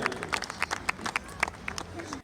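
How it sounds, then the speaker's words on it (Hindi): Audience at a Hindi comedy poetry stage show applauding to welcome poet Mukesh Massom, with brisk, uneven claps from a modest crowd, close by and fairly lively, over a short burst. "जोरदार तालियां।"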